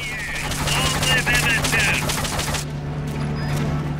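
Rapid bursts of gunfire in the video game Metal Gear Solid Peace Walker crackle over a steady low hum for a couple of seconds, then drop away, leaving the hum alone.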